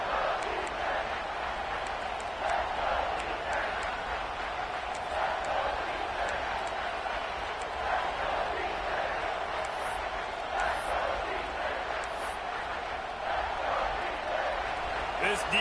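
Crowd noise at a UCLA versus Florida State college football game fills a stadium as a steady, distant roar with scattered whistles, while a commentator talks over it throughout.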